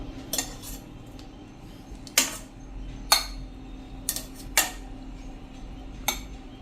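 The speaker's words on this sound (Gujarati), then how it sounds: "તો હવે એને આપણે વાસણમાં કાઢી અને ઠંડા થવા દેશું" Steamed potatoes being transferred into a vessel, heard as a handful of sharp, separate clinks of utensils against cookware spaced over several seconds, close by, over a quiet low background hum with no talking.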